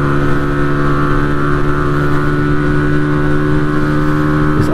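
Suzuki Intruder 125 VL motorcycle engine held at full throttle on a road near Oberhof, a loud, steady droning hum with constant pitch and no letup.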